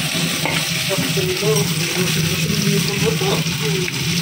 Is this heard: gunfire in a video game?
no